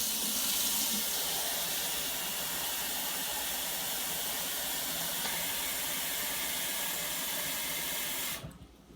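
Tap water runs steadily into a kitchen sink, a loud, continuous splashing hiss heard up close that carries on without a break for about eight seconds before it stops abruptly.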